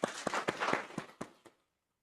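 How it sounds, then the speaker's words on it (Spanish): Sparse, separate claps from a small university audience in Spain, about seven distinct hand claps spaced unevenly and fading quickly into silence. "aplauso para Lore"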